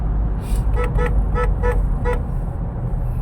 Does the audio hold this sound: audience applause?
no